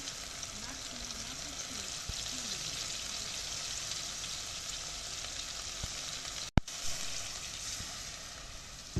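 Fenugreek seeds fry in hot oil in a home kitchen, giving a faint, steady sizzle with a single sharp clatter partway through.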